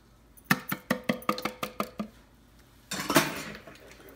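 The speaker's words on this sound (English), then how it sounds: "Now I have to empty this into the pan." Cornbread batter is emptied into a baking pan, with a spoon knocking against the bowl or pan about eight times in a steady rhythm, then a softer scraping, all close and without speech.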